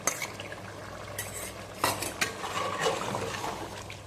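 Chicken karahi with yogurt stirred in a pan, a soft steady sizzle beneath scraping utensil strokes and a few sharp clinks against the pan's metal.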